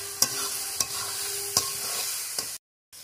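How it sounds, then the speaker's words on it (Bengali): Onion and garlic fry in a pan over a wood fire for mutton curry, stirred continuously: an even sizzle punctuated by four crisp spoon scrapes, close and clear, ending in a brief silence. "এখন কিছুক্ষণ ধরে এইভাবে কিন্তু সমানে নাড়তে থাকবে।"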